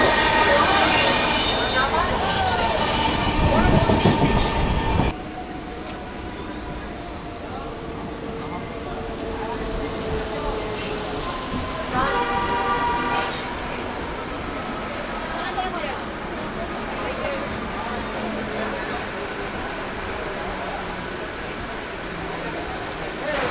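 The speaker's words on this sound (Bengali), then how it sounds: "ও ট্র্যাক সাউন্ড শোনো।" A local train's wheels rumble and clatter steadily along the track at full speed, with rhythmic knocks and occasional squeals, while people talk over the noise.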